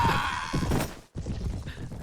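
Horse hooves gallop in the Mount and Blade game, a fast close clatter under loud battle noise that cuts off briefly and then resumes.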